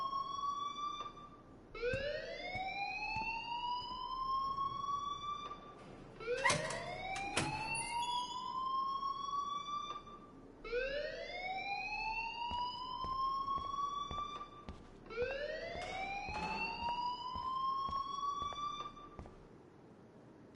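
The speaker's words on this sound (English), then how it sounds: "please turn off that alarm since that's your job" School alarm ringing in Life is Strange: a rising, wailing siren tone repeating about every five seconds, fairly faint and distant, with a few sharp clicks between cycles.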